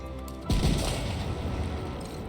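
A single unit fires a shot in Civilization 7, a sharp boom that opens loud and decays into a long rumbling tail over the game's music.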